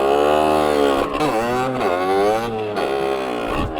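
A stock 50cc motorbike engine revs hard at full throttle, a close, buzzing rasp whose pitch climbs and then dips as it bogs down, repeating in several surges across the stretch with no talk.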